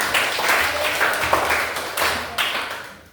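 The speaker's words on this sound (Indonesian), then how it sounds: "Tepuk tangan untuk Jessica." Applause in a classroom, a short burst of clapping from a group of students that rises and fades over a few seconds, close and fairly loud.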